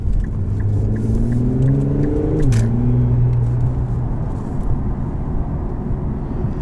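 A 2020 Infiniti Q50S Red Sport with an Invidia catback exhaust idles with a deep, smooth drone, then rises through a quick rev and settles back, loud and close.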